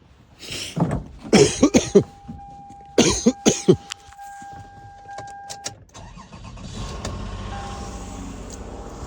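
A Toyota Sienna with a newly installed ignition coil cranks in several loud, choppy bursts, falls briefly quiet, then catches and settles into a steady, smooth idle heard up close.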